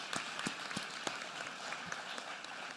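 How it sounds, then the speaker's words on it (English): Applause from an audience at a superintendent's State of Public Education address, a steady wash of many hands clapping with a few sharper claps standing out, moderately distant and fairly quiet. "That's something worth applauding."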